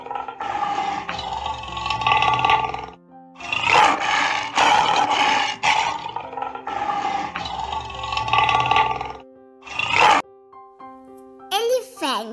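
Lion roaring in a series of loud, deep, drawn-out roars with short pauses between them, close and powerful, followed by a brief higher animal call at the end.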